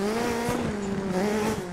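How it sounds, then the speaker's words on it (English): A rally car brakes in the racing game Dirt 3. A loud, steady engine drone with tonal tire whine fills the whole short stretch, with no voices. "Hit the brakes."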